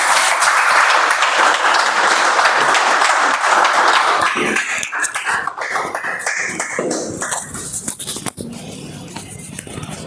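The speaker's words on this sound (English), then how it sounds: "Please help me welcome with even louder applause Toastmaster Aman onto the" Loud audience applause at a Toastmasters speech marathon meeting, a dense wash of clapping that fills the room, thinning into scattered individual claps toward the end as a speaker is welcomed to the stage.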